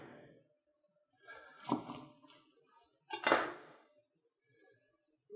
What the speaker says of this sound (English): Slice my lemons the long way.